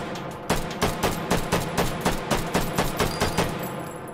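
A P762 machine gun fired in the VR shooter H3VR, a fast sustained burst of about fifteen evenly spaced loud reports, close and punchy, ending just before four seconds with no talk.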